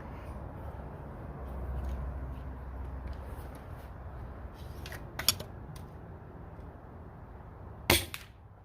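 Sabre ApexPrime blaster with a 30K spring firing dragon darts, two sharp, loud, isolated shots several seconds apart over a quiet background hum.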